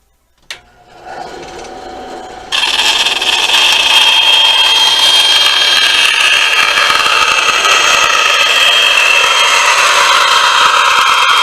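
A power tool starts with a brief click and whir, then rises into a loud, steady high-pitched cutting whine as it trims the overlapping bottom piece of a Kydex holster for an S&W 2.0 Compact.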